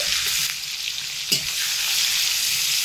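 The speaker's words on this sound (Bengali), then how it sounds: "গরম তেলের মধ্যে পেঁয়াজ কুচিয়ে রেখেছিলাম সেগুলো দিয়ে দিচ্ছি রসুন বাটা দিয়ে দিচ্ছি" Chopped onions and garlic paste frying in hot oil, a loud, bright, continuous sizzle with one brief scrape of a spatula partway through, close up and with no voices.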